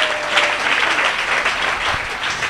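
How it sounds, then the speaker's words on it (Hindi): A congregation at a Hindi prayer meeting clapping loudly together, a dense, sustained round of applause that fills the space evenly from start to finish. "इसलिए जोर से तालियां बजाकर प्रभु यीशु को धन्यवाद दीजिए."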